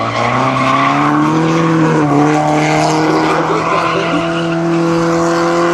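A Nissan S13 hatchback with bolt-on engine mods and a welded diff drifts sideways at a drift competition qualifier, its engine droning loudly while the tires squeal and skid continuously throughout.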